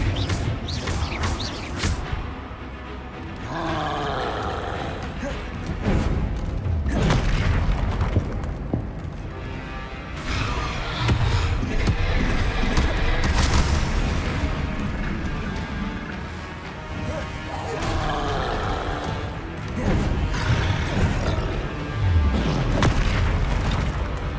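Confringo fire-blast spells in Hogwarts Legacy detonate in repeated heavy booms and bursts, mixed with combat effects and rumble, loud and continuous throughout.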